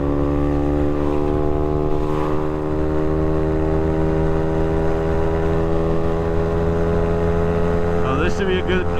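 A Honda Navi motorcycle engine holds high revs on the freeway, a loud, steady droning whine with strong harmonic tones under constant wind rush, and a brief rising shift near the end.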